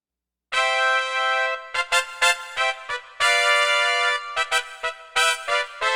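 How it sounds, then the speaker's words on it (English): A bright, brassy Korg synthesizer horn tone plays sustained notes and short stabs in a rhythmic phrase, loud and clear with no talking. "this is the sound of a korg making a horn sound"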